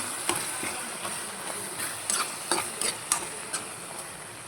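Turmeric is stirred into a tomato and chukkakura curry in a pan, a soft continuous sizzle punctuated by several sharp scraping taps of the spoon, close by and without talk.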